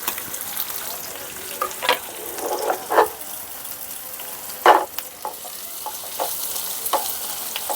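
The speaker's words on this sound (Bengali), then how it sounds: "বেরেস্তাগুলো লাল করে ভেজে নেব।" Sliced onions frying in oil in a pan to make crisp birista for Hyderabad-style egg biryani, a steady close sizzle with a few louder crackling bursts and stirring scrapes, no voices.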